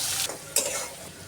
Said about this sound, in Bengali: এখন আমি তেলের মধ্যে এই যে পেঁয়াজ, কাঁচামরিচ দিয়ে দিলাম।